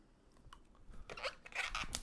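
A twisted latex balloon being cut off, producing a few faint crisp snips and crinkly rubbery crunches that grow slightly louder toward the end, with no talking.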